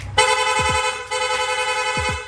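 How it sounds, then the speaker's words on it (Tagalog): A rapid horn on a Sniper 155 motorcycle blaring in rapid repeated bursts, loud and close, a short pause, then the honking resumes. "Nag-install din tayo ng rapid horn."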